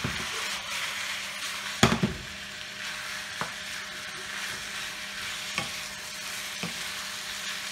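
Minced meat for tagliatelle bolognese sizzles steadily in a pan as it is broken up and stirred, with occasional sharp scrapes and taps of the utensil against the pan.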